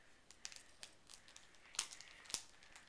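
Scissors cut through a plastic packaging bag toward its zip closure, making quiet crinkling rustles broken by a few sharp, crisp snips, with no talking.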